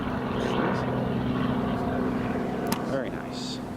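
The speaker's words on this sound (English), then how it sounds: "A400 still just taxiing along there." Belgian Air Force A400 turboprop transport aircraft taxiing at Newcastle Airport, a steady propeller drone with a distinct tonal hum, heard from a distance with brief sharp noises and voices around it.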